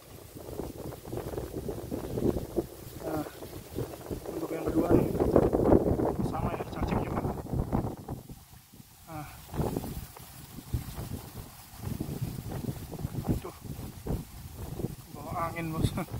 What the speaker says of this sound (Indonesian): Ya, anginnya kencang sekali.